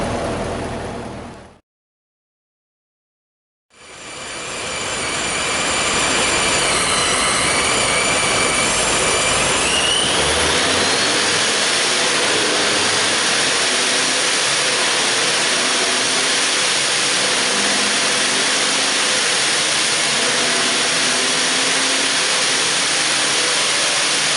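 A Camaro engine on the street runs with a steady, loud broadband roar after a brief dropout, holding a continuous drone.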